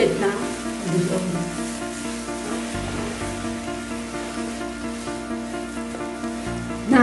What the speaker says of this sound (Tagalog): Ang kanyang binabad na basmati rice ay inilagay niya sa kanyang ginisang sibuyas at dill.